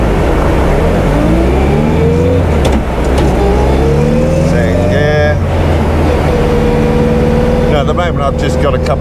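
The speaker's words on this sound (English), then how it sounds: "I get it into gear, get it rolling. First gear and away." A 500+ bhp bugeye Subaru Impreza STi pulls away in first gear, its loud engine note climbing steadily in pitch as it revs up, close by and continuous.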